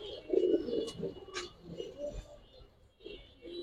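Domestic fancy pigeons coo close by in soft, throaty, rolling bursts that repeat unevenly, with a few faint chirps and no talking.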